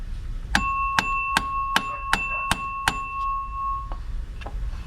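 A ratchet wrench knocked against a truck's metal part like a hammer, giving seven sharp ringing clangs in a steady rhythm with a sustained metallic tone, followed by two fainter taps.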